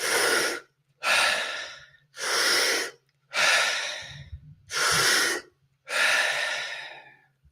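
Deep, rhythmic breaths during a guided breathwork exercise, six long forceful inhale-exhale bursts close to the mic at a steady brisk pace, with a faint low hum underneath and no talking.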